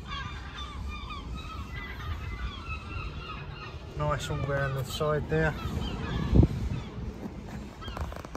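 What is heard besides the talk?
seagulls calling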